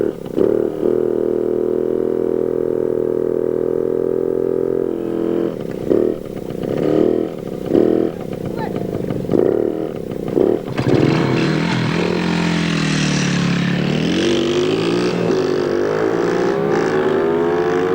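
A motorbike rides around an old race track: a close, steady engine drone gives way to sharp revving, with the pitch rising and falling as the throttle opens and closes.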